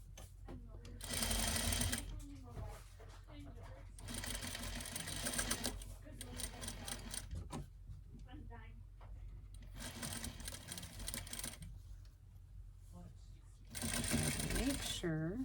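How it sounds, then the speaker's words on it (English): A sewing machine runs in short bursts of rapid whirring stitches along bias tape on a bumble bee costume dress, pausing between runs while someone talks quietly over it. "Make sure I'm sewing in the fold of the bias tape"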